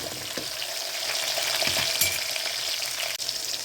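Tomatoes being stirred and sautéed in a pan for a dried-fish curry, giving a steady close sizzle with scraping stir strokes throughout and no talk.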